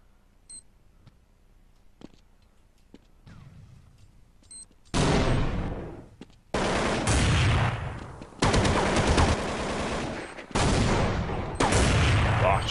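Gunfire in Counter-Strike on de_dust2, a video game. Quiet ticks and faint clicks come first, then several loud, dense bursts of sustained automatic fire, broken by short gaps.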